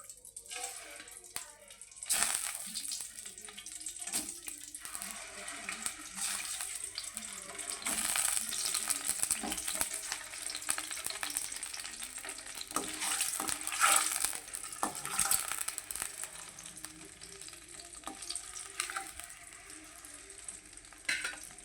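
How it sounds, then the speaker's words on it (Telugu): Eggs frying in hot oil in a pan, a steady crackling sizzle with occasional stirring and scraping, close and fairly quiet throughout, no talking. "ఆయిల్ వేడెక్కిందండి. ఇందులో ఈ ఎగ్స్ వేసేసుకుందాము."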